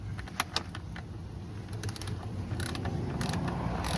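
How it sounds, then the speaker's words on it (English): Quick metallic ratcheting clicks as a ratchet tightens the oil drain plug on a Chrysler 2.4 DOHC four-cylinder, short bursts over a low mechanical hum, close and fairly quiet. "Then we can grab our ratchet"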